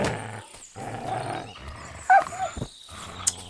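Dogs in Kingdom Come Deliverance 2 snarl and growl in short, close, aggressive bursts, with a sharp yelp-like cry partway through among game effects.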